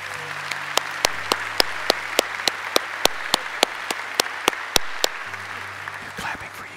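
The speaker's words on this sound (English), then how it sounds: "They're clapping for you." A church audience welcomes a newly married couple and their baby daughter with clapping: a few loud, sharp claps in an even rhythm stand out over a softer crowd wash, with a voice talking underneath near the end.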